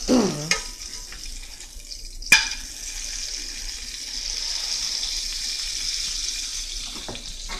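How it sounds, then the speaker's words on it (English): Raw frozen burgers fry in a pan with a steady, close hiss and sizzle, broken early by a few sharp clinks and scrapes. "frying some burgers and stuff like that."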